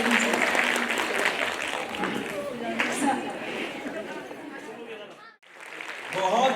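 Enthusiastic clapping for schoolgirl performers at a Makar Sankranti festival in Saharsa, mixed with crowd chatter and voices, with a brief drop in the middle before the applause swells again.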